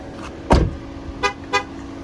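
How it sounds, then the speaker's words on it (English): Warning alert from a 2014 Ford Taurus Limited signalling that the key is no longer inside the running car: a sharp tone followed by two shorter, evenly spaced beeps, close and clear over faint cabin hum. "it lets you know that there's no key inside of the car"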